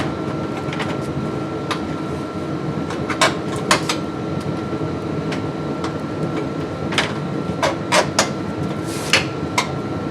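Plastic LED light trim clips on a Chevrolet Silverado Duramax pickup snap into place in a series of sharp, close clicks, scattered irregularly over a low background hum.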